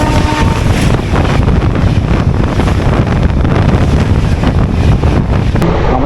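The Howrah-Suri Express races along at around 100 km/h, heard from inside a general compartment as a loud, continuous roar of rushing wind and rolling wheels buffeting the microphone.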